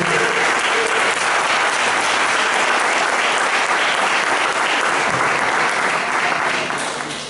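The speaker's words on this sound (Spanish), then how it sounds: "¿Cuánto le damos un aplauso al Señor?" A church congregation gives steady, loud applause to the Lord, a thick continuous patter of many hands that holds for about seven seconds before thinning slightly at the close.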